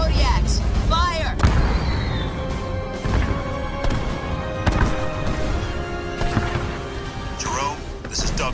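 Kodiak artillery fire in the Halo Wars sci-fi video game, a series of heavy booming shots and crashes under a sustained, dense battle soundscape with voices mixed in.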